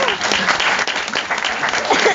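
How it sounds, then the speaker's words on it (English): Audience applause at a Marilyn Manson Grammy Museum event, a short burst of steady clapping from a seated crowd, fairly close and even throughout. "And you can applaud now if you want."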